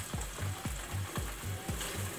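Sea bass fries in a pan with a steady sizzle, overlaid by regular rhythmic clicks and scrapes repeating about twice a second.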